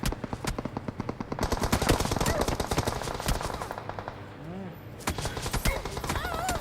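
Rapid automatic gunfire in a multiplayer shooter video game, dense bursts of close shots firing almost continuously with brief pauses, while players talk over the action.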